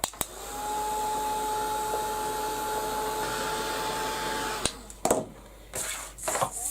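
A heat tool blasts steadily over junk journal craft work, a loud even whirring rush with a faint whine that holds for about four and a half seconds, then cuts off into a few clicks and handling knocks.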